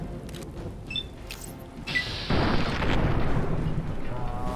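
A heavy explosion from a rocket launcher or grenade rifle booms in the Fallout 3/New Vegas wasteland, a sharp blast followed by a sustained roaring rumble, with brief crackles before it.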